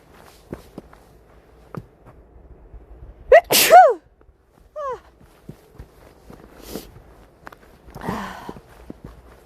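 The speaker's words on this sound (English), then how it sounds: "I'm going to sneeze." A single loud sneeze bursts out close by in snowy winter woods, followed by a couple of softer breathy sounds, with faint footsteps and quiet rustling around it and otherwise near silence.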